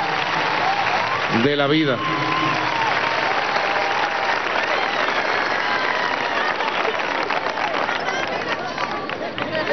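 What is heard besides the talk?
audience applause at a medical graduation ceremony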